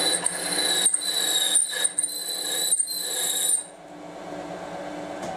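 A bench grinder sharpens a drill bit freehand, giving a steady high-pitched grinding whine with brief dips as the bit is lifted and re-touched, then easing to a lower run-down hum of the wheel near the end.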